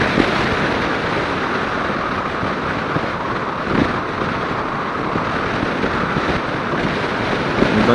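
Strong crosswind buffets a microphone on a riding motorcycle, a loud continuous roar of wind noise with occasional gusty swells, dense and close throughout, with no talking.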